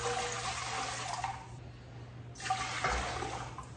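Pickling vinegar and water pour into a pot of brine with a continuous rushing splash. The stream pauses briefly midway, then resumes, moderately loud and close, with no talking.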